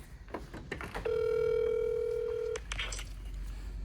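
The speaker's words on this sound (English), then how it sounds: "Let's see if we can get him on the phone." A telephone rings once, a long steady electronic tone over quiet room noise, with faint clicks and small sounds before and after it.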